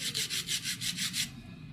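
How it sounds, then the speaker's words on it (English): A knife blade being shaped on 100 grit diamond stones: about eight rhythmic back-and-forth scraping strokes, close and even, then the scraping stops, with no talking. "I'm just using my 100 grit stock diamond stones"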